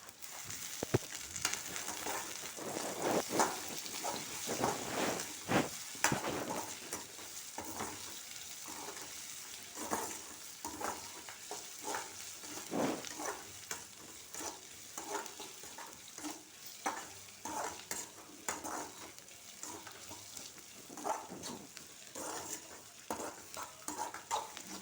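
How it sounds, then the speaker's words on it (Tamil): Curry leaves sizzle in hot oil while being stirred for rava upma, a steady frying crackle with repeated scraping strokes of a spoon against the pan throughout. "கருவேப்பிலை கொஞ்சம் போட்டுக்கிறேன்"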